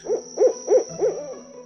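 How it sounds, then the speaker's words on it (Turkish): An owl hoots in a children's story, giving four soft, evenly spaced hoots over a faint steady background tone, fairly close and clear with no talking. "Baykuş gece karanlığında avcıların etrafında uçuşup onları korkutmuş."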